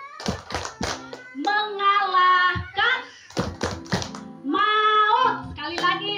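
Congregation at an outdoor Easter worship service doing a rhythmic Easter clap: bursts of sharp hand claps in quick patterns alternating with loud group chanting and children's voices.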